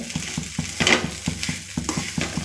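Drumstick leaves being stirred in a pan with a garlic and chili tempering, a spatula scraping in steady rhythmic strokes over a light sizzle, close and moderately loud.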